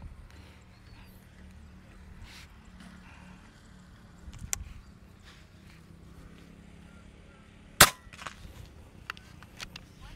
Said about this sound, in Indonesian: Tembakan keempat.